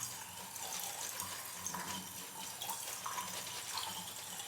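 Tap water runs steadily into a sink while a shaving brush is wetted under the stream, a soft continuous splashing hiss heard close and fairly quiet, with no talking.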